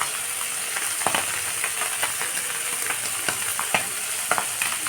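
Small moya fish, seasoned with salt and turmeric, fry in hot oil with a steady close sizzle broken by sharp crackling pops, no voices.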